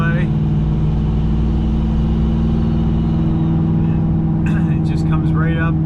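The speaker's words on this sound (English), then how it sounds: "We can just roll on the throttle. Boost comes in right away." A turbocharged GMC truck engine drones steadily and loudly as the throttle is rolled on from cruising revs, heard from inside the cab, with someone speaking briefly near the end.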